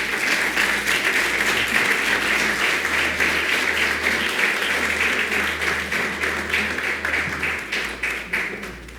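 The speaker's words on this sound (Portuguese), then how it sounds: "Peço-vos, por isso, que recebam com uma calorosa salva de palmas o nosso orador convidado" A large audience gives sustained, dense applause to welcome a guest speaker, Professor Domingos Fernandes, at a teachers' union event; the clapping stays loud and steady throughout, thinning slightly toward the end.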